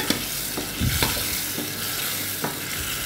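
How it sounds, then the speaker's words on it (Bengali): Potatoes tossed with powdered spices in a hot pan, a steady sizzle of frying with a few sharp scrapes and clacks of a spoon stirring against the pan, close and alone. "এখন আমি মশলাটা সাথে সাথে আলুটা দিয়ে দিলাম, আলুটাও কষানো হয়ে যায়।"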